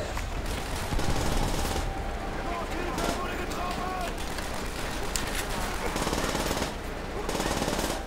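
Rapid automatic gunfire and scattered shots from the World War II shooter game Call of Duty: World at War keep up a dense, loud barrage throughout, while players' voices talk over the battle.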